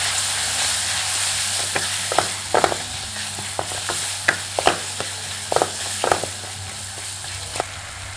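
Tomatoes with turmeric, salt and mango curry masala frying in a hot pan, a constant loud sizzle broken by light stirring clicks and scrapes from a spoon, no voices.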